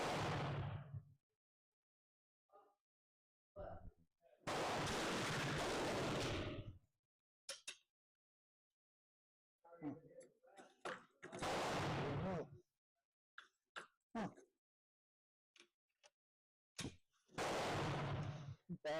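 Rifle fire from a Danish rolling block chambered in 11.7 caliber: three separate sharp, loud blasts spaced several seconds apart, each with a brief decay, with sparse clicks and handling noises between them.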